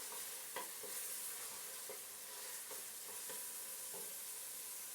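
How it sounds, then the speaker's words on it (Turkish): Onions sizzle steadily in a hot pan while a utensil scrapes and stirs them in short, irregular strokes, close up with no voices. "hemen soğanımı şöyle karıştırayım bir yandan"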